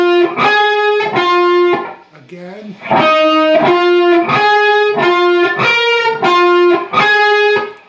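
A distorted electric guitar plays a riff, repeating chugging chord stabs with sustained ringing notes and a short break, loud and close, with a brief spoken word in the middle.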